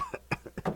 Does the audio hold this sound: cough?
yes